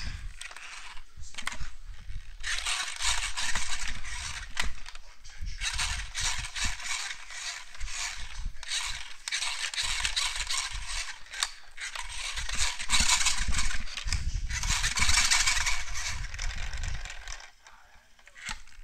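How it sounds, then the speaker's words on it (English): A toy three-wheeler's wheel spins steadily, giving a continuous whirring, rattling mechanical sound with creaky, ratchet-like ticks that holds close and fairly loud for most of the stretch before easing off near the end. "I'm going to show you how fast this first wheel spins."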